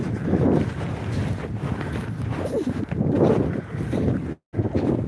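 Steady outdoor wind buffets a microphone, a continuous low roar that swells and eases with gusts and drops out briefly near the end, with no voices heard.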